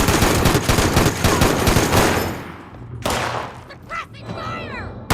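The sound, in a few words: suppressing gunfire in the video game Fallout 76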